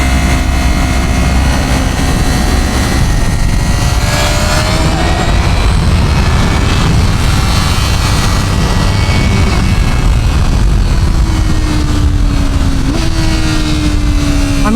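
A 2025 Honda CBR1000RR-R Fireblade sport bike engine roars loud and close, its pitch climbing and holding through the gears in a sustained high-rpm wail with no voices.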